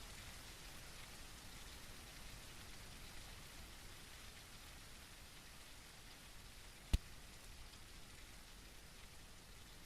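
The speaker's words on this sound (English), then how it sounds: "I can't see anything in this rain." Steady rain falls in the survival video game Everwind, a dense, even hiss of raindrops that continues throughout at low volume, with one sharp click near the end.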